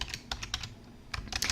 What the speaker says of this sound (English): So I'm going to start typing Nordstrom out